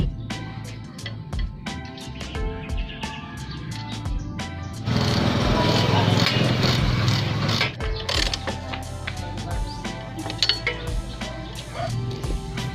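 Ratchet wrench clicking as the monoshock bolt on a Honda Raider 150's aftermarket swing arm is tightened, a run of short close metallic clicks and taps with a louder grinding burst midway.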